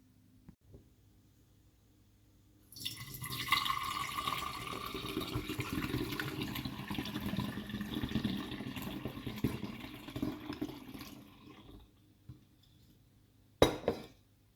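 Liquid from fermented beet kvass drains and trickles steadily as solids are strained out, a soft continuous pour lasting several seconds with faint clinks of a utensil and a sharp knock near the end.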